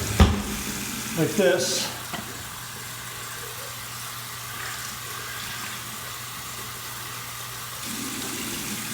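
Cold water runs from a tap in a steady, even hiss after a few brief clattering handling sounds and a short spoken remark.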